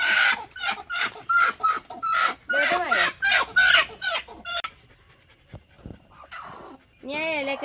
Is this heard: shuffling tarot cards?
no